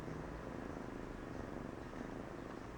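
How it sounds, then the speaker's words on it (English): Continuous soft, rhythmic purring up close, a steady rumbling throb with no other sounds over it. "Can you hear how loud she's purring?"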